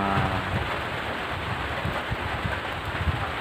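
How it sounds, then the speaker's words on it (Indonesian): Steady rain falls outdoors beside rice fields where rice is being planted, making a constant broadband hiss with faint low rumbles and no talk. "masih hujan teman-teman"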